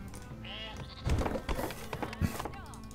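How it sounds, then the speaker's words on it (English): Sheep bleats from the strategy game Northgard, a few short calls heard in the opening second amid game background noise, followed by louder thumps and bursts of game action. "Will I just slaughter sheep?"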